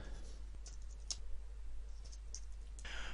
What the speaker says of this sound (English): type in the text that I want to use first